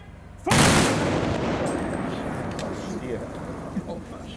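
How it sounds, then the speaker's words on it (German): A Böllerschützen ceremonial black-powder gun salute fires with one sudden, loud boom, followed by a long, rumbling echo that slowly fades outdoors. "Achtung, Böllerschützen! Wir laden zum Salut!"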